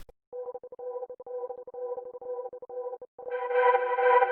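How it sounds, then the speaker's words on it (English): An ambient loop made from Virus synth recordings pulses in short, evenly repeating tonal bursts. It then swells into a fuller, brighter sustained texture near the end, heard alone at moderate level. "this is another loop which I made from the recordings from Virus"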